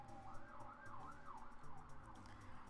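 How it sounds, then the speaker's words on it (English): A wailing emergency siren rising and falling in smooth sweeps, heard from a distance outdoors and fairly faint, with low traffic rumble underneath. "there's a really loud siren outside"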